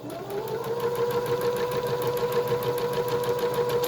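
A sewing machine runs steadily, stitching fabric for a hospital-pattern face mask, with a continuous close mechanical whir and rapid needle rhythm throughout.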